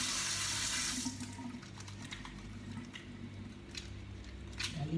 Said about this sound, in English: Wash your hand, Kai.